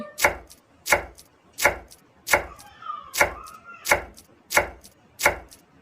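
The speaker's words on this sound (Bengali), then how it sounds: "এবার কুচিয়ে নিচ্ছি" A knife chops through tomato on a board in eight evenly spaced, crisp strokes, close and steady, with no talking.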